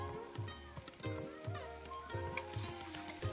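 Chopped onion and chili hit hot white oil in a pan for masala Maggi noodles, giving a steady close sizzle with light stirring scrapes and clinks throughout.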